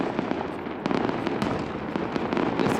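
Canada Day fireworks bursting over Victoria, BC: a dense, continuous crackle of overlapping pops and booms, moderately distant, with sharper bursts standing out from the steady roar and no voices.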